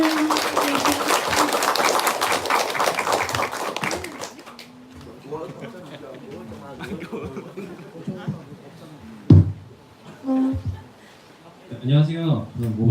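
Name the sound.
workshop audience applause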